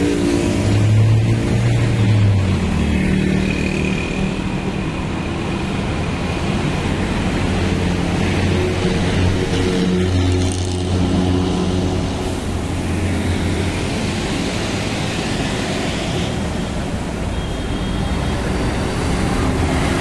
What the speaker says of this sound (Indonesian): ini busnya berhenti sebentar di sini